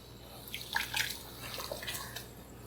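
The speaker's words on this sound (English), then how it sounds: "So I would add the remainder of the water from the 4 cups." Water poured from a measuring cup into a pot of partly cooked, still-firm rice, a soft splashing trickle with a few brief drips over a low steady background hum.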